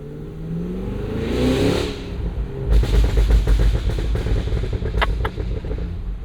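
A 2025 Cadillac Escalade V SUV's 682 hp supercharged V8, running a 10-speed automatic locked in manual mode, revs and then accelerates hard with a loud, rumbling roar and rapid pulsing exhaust, heard up close with no talk.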